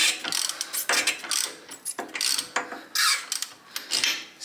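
Quick, close ratcheting clicks from a ratchet wrench with a 16mm socket undoing the spark plug on a John Deere X110 lawnmower. The clicks come in repeated bursts with brief pauses, and no talk is heard.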